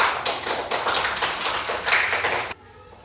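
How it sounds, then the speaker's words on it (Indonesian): Fourth- and fifth-grade classroom children applaud, a short burst of brisk, uneven clapping that stops suddenly, leaving a quiet room. "Tepuk tangan untuk kelas 5 dan kelas 4."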